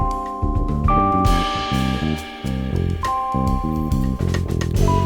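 A music mix plays without Soviet EQ saturation, with a driving beat, low bass notes and sustained higher tones, full and continuous at close range with no talking.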